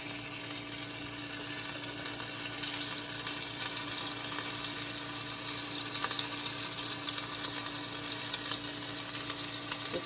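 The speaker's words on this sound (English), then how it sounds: "So you heat a tablespoon of coconut oil in here, and then I'm gonna add 2 teaspoons of garlic paste." Garlic paste frying in a tablespoon of hot coconut oil over medium-high heat gives a steady, close hiss and crackle that holds at an even level for about ten seconds with no one talking.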